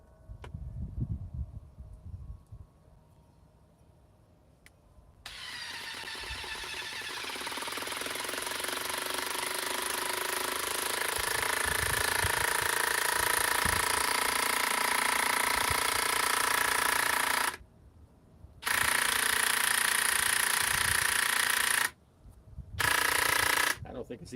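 A cordless impact driver running at its lowest speed drives fragile fasteners with a loud, steady hammering buzz lasting over ten seconds, broken by short pauses and restarts, after a brief quiet start.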